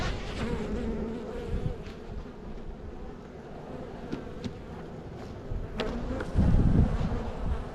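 A honey bee colony at an outdoor apiary in March fills the air with a continuous, dense buzzing, close and steady, with a few low thumps and a brief rumble toward the end.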